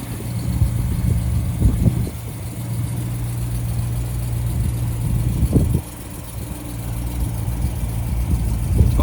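A BMW M3 idles close by, a steady low engine rumble with a slight dip and small swells in level, heard alone.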